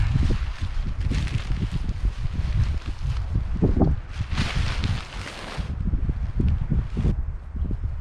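Wind gusts and buffets the microphone throughout, a constant low roar with rustling surges rising and falling.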